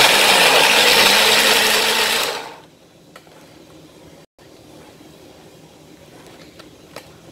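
A mixer grinder whirs loudly while blending pomegranate seeds with a little water, a dense steady roar that cuts off after about two seconds, leaving a quiet room with faint clicks.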